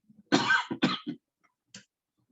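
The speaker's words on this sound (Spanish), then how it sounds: "No, no estoy estornudando, estoy tosiendo." A person coughs in a short burst of three or four harsh, close coughs, followed a moment later by one softer cough in a quiet room.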